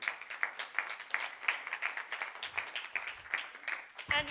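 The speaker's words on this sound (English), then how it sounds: "a round of applause for our wonderful mentors" A room of people clapping for mentors at a young chef competition final, a dense patter of applause that stays steady throughout, with a few louder claps near the end.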